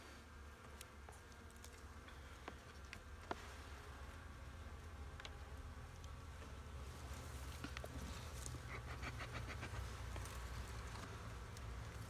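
Honeybees hum in a steady, low drone throughout a hive inspection of a colony that is not taking its sugar syrup, with occasional faint ticks and clicks close by.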